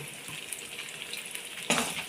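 Tuna pieces fry in white oil for a Kerala-style fish pickle, a soft, steady bubbling sizzle heard close but fairly quiet, with a sharper burst of spitting near the end as the pieces are stirred or lifted.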